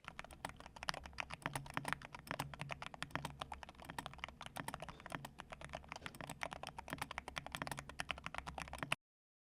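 Rapid keystrokes on a computer keyboard, a dense run of close, crisp clicks in an uneven typing rhythm that continues steadily with no talk.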